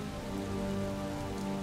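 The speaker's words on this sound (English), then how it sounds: "Starting to rain." Steady rain falling in the video game Lucius III, a dense, even hiss of drops on surfaces that holds at a constant level throughout, with no talking.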